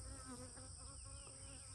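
Honey bees buzzing around five beehives at an apiary, a steady close swarm drone with individual bees weaving past, continuous and fairly faint with no talk.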